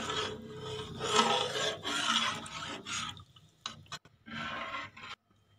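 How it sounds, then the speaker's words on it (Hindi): A spoon or spatula scrapes and stirs walnut halwa with milk in a pan, giving close rasping strokes in uneven bursts that are separated by short pauses. "दूध डालने के बाद इसको अच्छी तरीके से इसमें मिक्स कर दें।"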